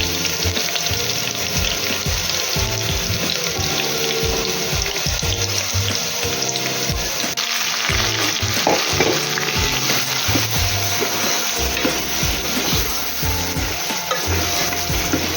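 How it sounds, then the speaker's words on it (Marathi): Crushed garlic sizzling in hot oil as a tempering for a Malvani fish curry, a steady dense frying hiss with stirring scrapes and some water-like splashing throughout, close and fairly loud. "आता याच्यामध्ये लसूण घालायचं आहे ठेचलेला फोडणीसाठी"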